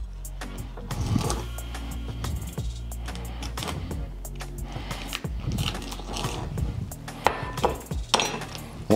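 A knife slices the thick center rib out of collard green leaves, with short, crisp cuts and rustles scattered across a busy, close-up cutting session.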